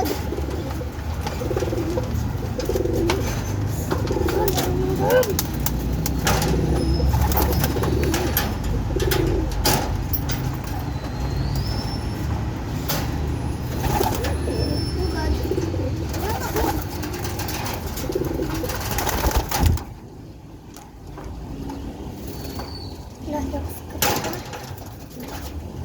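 Pigeons coo in a busy chorus of low, throaty calls overlapping close by, with rustling, scraping and people talking now and then before the sound thins out toward the end.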